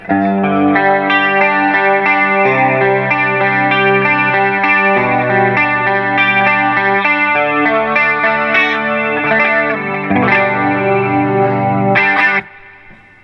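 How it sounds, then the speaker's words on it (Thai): Loud guitar chords through a BOSS GT-1 multi-effects chorus shimmer and warble, ringing steadily with a few changes before stopping abruptly. "อันนี้ที่เขาเซตไว้เนี่ยเขาจะเซตตัวเป็นคอรัสขึ้นมานะครับ"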